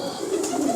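Pigeons coo in a brief, soft, throaty burst close by, with no voices over it.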